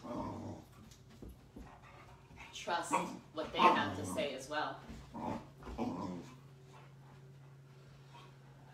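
A boisterous puppy growls and whimpers close by, low rumbling and whiny sounds rising and falling over several seconds while a calm voice speaks over it.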